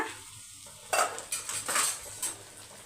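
Capsicum stir-fry being turned in a pan, a spatula scraping and clinking against metal in several quick strokes over a faint sizzle, close and clear, with no talking.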